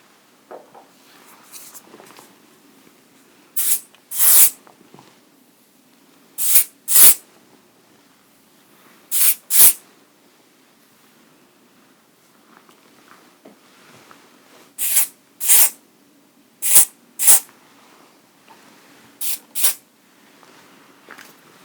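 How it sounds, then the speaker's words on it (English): Hairspray from an aerosol can hisses out in short paired bursts, about eight sets spaced a few seconds apart, close and crisp over quiet background with no talking during the sprays. "Just a little bit of hairspray."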